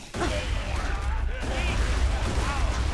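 A grenade explodes in the video game Borderlands 2, setting off a dense, sustained burst of blast and gunfire noise with deep rumbling underneath that fills the whole moment.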